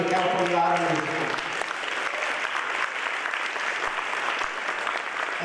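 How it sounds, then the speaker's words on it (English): Audience applause fills a meeting of an electric vehicle association held at the California Auto Museum, a steady dense clatter of many hands lasting several seconds. Voices and cheers are mixed in at the start. "let's have a round of applause for the California Auto Museum"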